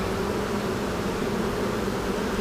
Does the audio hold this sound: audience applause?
no